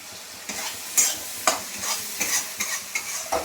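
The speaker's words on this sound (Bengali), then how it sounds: "মশলাটা আমার ভালো করে ভাজা হয়ে গেছে, দেখেছেন তেলগুলো বেরিয়ে গেছে।" Spice paste fries in oil for a spicy soybean and potato curry, with steady sizzling broken by repeated sharp scrapes and stirs of a spoon against the pan, close and fairly loud, no voices.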